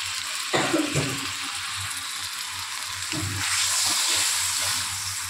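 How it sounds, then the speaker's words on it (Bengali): Coconut milk poured into a spice paste sautéed with turmeric in a pan, with a soft bubbling sizzle and liquid sloshing, fairly quiet and close, with no voices. "কষিয়ে নেওয়ার পরে আমি এর মধ্যে নারকেলের দুধটাকে দিয়ে দিলাম।"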